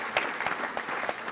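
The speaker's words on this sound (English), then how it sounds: "Let's give her a round of applause." Audience applause at a Little Rock Touchdown Club gathering, a dense patter of many hands clapping steadily and fairly loud throughout, with no talk over it.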